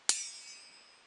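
A coat hanger struck like a gong and heard through string gives a single bright metallic clang that rings briefly and fades, faint and close.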